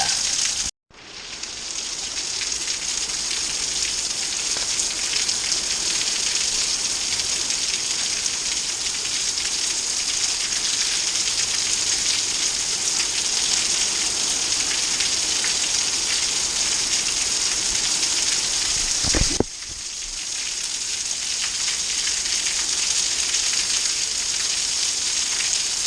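Heavy, steady rain pours down during Hurricane Harvey in Houston, a dense unbroken roar of rainfall on surfaces that holds constant throughout, with one brief sharp break near the end.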